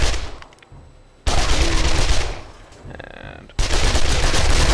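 Gunfire at zombies in the console version of 7 Days to Die: loud bursts of shots that break off, resume, then continue densely, with a short spoken word at the start.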